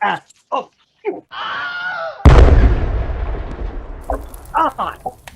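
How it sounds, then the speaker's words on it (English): A firecracker bursts with one sudden loud bang that trails off into a crackling hiss, while people talk and shout excitedly before and after it. "we actually put a firecracker in it, and then it just like kind of sparkles a little bit"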